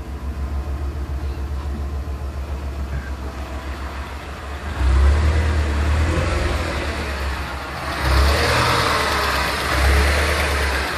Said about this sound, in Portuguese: o motor do nada começa a acelerar e desacelerar